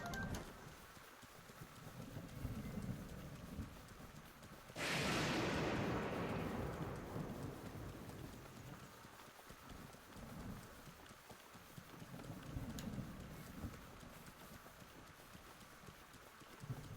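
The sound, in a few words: horse hooves galloping in video game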